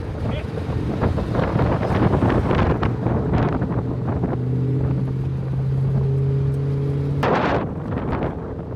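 Cars rolling in off parade laps at an event with a Nissan March Micra K10 wide body rally build: a continuous blustery wash of engines and wind buffeting the microphone, with one vehicle's steady drone rising briefly nearby.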